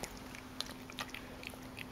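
A dog chews a piece of cheese up close, soft, quiet wet bites and clicks spaced irregularly over a faint steady background hum.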